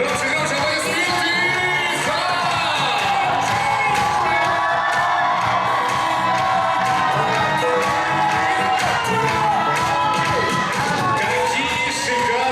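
A large audience at the Miss and Mister BSU 2019 university pageant cheers, whoops and applauds in a dense, sustained roar of shouts that runs loud and unbroken throughout.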